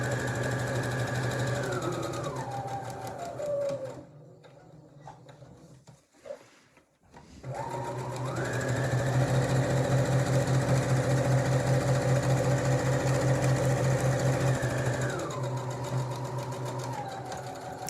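A sewing machine stitches a seam on a drawstring bag in a steady, close mechanical whir, slows and stops briefly midway, then starts again and runs at a rapid even pace.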